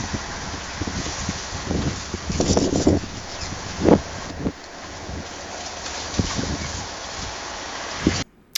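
Synthetic AI-generated wind effect: a soft, rushing whoosh with gentle gusts swelling and fading over several seconds, moderately loud and without voices, cutting off abruptly at the end.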